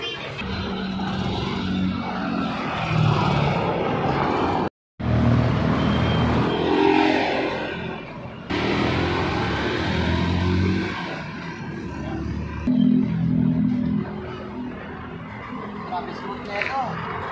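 A Yamaha SZ version 3 motorcycle engine runs steadily on a test ride after tuning, a continuous close engine drone with rising and falling revs, with people talking over it.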